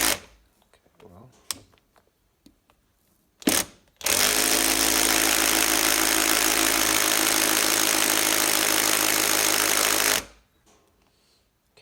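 Impact driver on its Torx setting loosening bolts: a loud, steady buzzing hammer burst of about six seconds, after a few short knocks and brief bursts, then quiet with faint handling noise.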